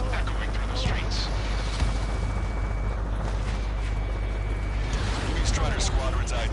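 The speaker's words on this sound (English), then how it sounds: "Gunfire and the roar of jets echoing through the streets." Gunfire and jet roar fill a city under martial law in the Ace Combat 7 combat flight game: a dense, continuous, loud roar with rumbling booms and crackling bursts, and voices over it.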